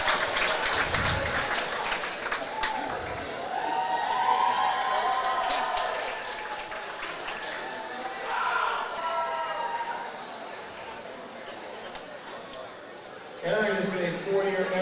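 Audience at a swim and dive senior night applauding senior swimmer Erin Kelly, sustained clapping and cheering through much of the stretch, with an announcer speaking over it.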